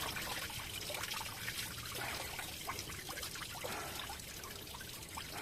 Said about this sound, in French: il y a l'eau qui coule avec